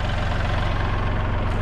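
A Kubota L3301 tractor engine runs at a steady, loud, close drone at a driveway work site, with no talking.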